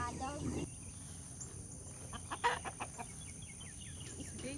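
A backyard flock of chickens, including barred rocks, australorps and a small rooster, clucking softly in short scattered bursts over steady outdoor hiss and faint insect chirring.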